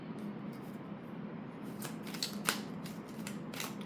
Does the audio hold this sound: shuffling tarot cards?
yes